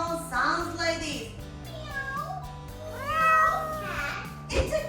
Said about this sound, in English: Cat. It's a cat.